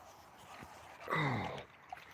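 A dog whimpers once in a short, high, wavering whine lasting about half a second, close by against a quiet background, with a faint brief yelp just after.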